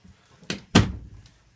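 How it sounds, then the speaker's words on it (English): An indoor door swings shut, a soft knock followed by a firm, close thud with a short rattle, heard alone without voices. "Let me close the door."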